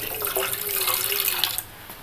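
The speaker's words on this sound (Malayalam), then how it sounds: "നമുക്കിതിലേക്ക് കുറച്ച് വെള്ളം കൂടെ ചേർത്ത് കൊടുക്കാം." Water poured from a vessel into boiling tamarind water in a cooking pot, making a steady splashing pour for about a second and a half before it stops, close and alone.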